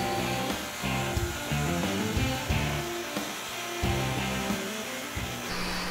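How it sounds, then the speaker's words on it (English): A drum sander runs with a continuous loud whirring roar as a wooden cutting board is fed through, with slight dips and surges in the grinding noise and no voices. "You know how I love this sander. Fire that bad boy up, feed it through"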